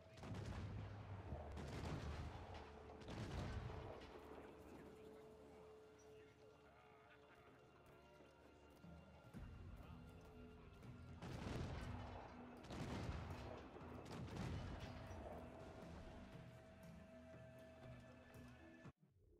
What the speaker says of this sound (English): Oh, I can hear some explosions happening.